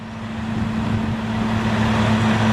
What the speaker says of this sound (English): Only takes about a minute to fill that dump truck.